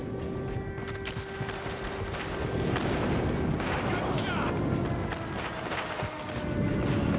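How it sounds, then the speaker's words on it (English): Airstrike explosions and heavy gunfire in the mobile shooter game Call of Duty Mobile: dense, continuous rumbling blasts and crackling shots, loud and close, with a steady drone underneath. "Friendly airstrike incoming."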